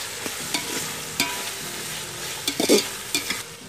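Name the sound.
green chilies frying in the pan for dum biryani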